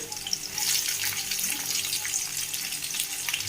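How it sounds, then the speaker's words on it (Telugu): Spring onions, green chillies and vegetables fry over a high flame, a loud, dense, steady hiss of sizzling close by with no voices. "ఇలా వెజిటబుల్స్ని హై ఫ్లేమ్లో ఫ్రై చేసుకుందాం."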